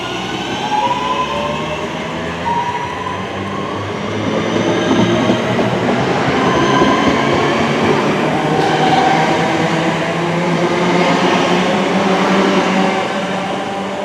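A train rolls through Barnt Green station, heard from platform 1, a loud broad rumble swelling midway with rattling carriages and faint metallic squeals, no talking.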